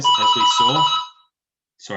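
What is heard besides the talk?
doorbell ringing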